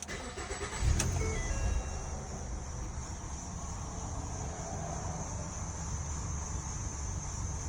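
A Ford Fusion with a stalling problem cranks and catches at about one second, then settles into a steady, close idle that continues to the end with no talk over it.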